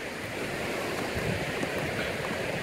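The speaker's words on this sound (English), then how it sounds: "Oh, look, a little babbling brook down here." A small babbling brook along a mountain trail gives a continuous, even rush of flowing water, fairly soft, with slight wind noise and no talking.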